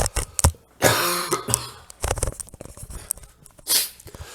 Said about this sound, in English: going to cough again